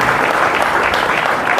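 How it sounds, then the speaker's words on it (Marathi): Audience applause in a school career-guidance session: dense, continuous clapping from many hands, close and loud, with no pauses. "टाळ्या वाजवा"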